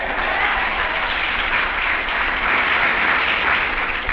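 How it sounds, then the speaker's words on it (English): A crowd at a civil rights rally claps steadily, a thick, continuous roar of many hands on an old, band-limited recording, with no speech over it. "I don't like the way you're clapping tonight."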